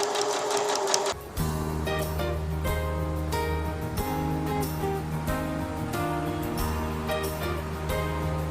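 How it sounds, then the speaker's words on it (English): A sewing machine stitching doll dress fabric with a brief back tack, a steady close mechanical whir and rhythmic needle drone after a short rustle at the start, with slight pauses and changes in pace. "make sure it's going to sew both pieces of fabric together, and then back tack just a little bit."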